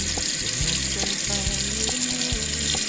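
Warm tap water runs steadily into a sink, rinsing a memory pillow, a constant close splashing hiss with low thumps of handling underneath.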